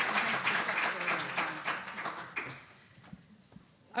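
A legislative conference audience gives a round of applause for a university professor, with full clapping that thins out and fades into scattered claps and quiet.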